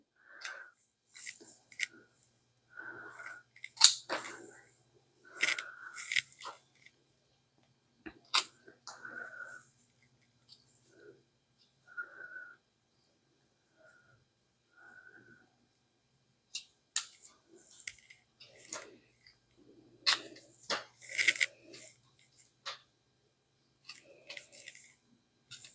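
Snips cut the roots off a bundle of dahlia tubers in quiet surroundings, giving scattered, faint crisp clips and snaps that come in short clusters with pauses between them.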